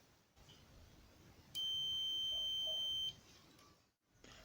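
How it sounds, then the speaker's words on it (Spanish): A clamp multimeter set to continuity mode gives one steady electronic beep lasting about one and a half seconds over faint background hiss, sounding when low resistance is measured. "cuando la resistencia medida es baja también suena un bip"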